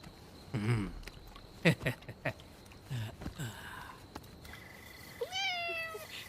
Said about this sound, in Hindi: दूसरी बिल्ली।